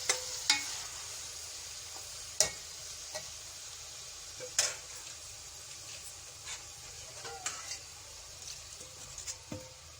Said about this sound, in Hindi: मैरिनेट की हुई चिकन जो मैंने आधे घंटे के लिए रखी थी, अब मैं ये भी डाल दूंगी इसमें।